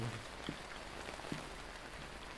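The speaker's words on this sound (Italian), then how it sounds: "E piove" Steady, soft video game rainfall patters across a surface in Phasmophobia, with a couple of brief low knocks standing out over the even hiss.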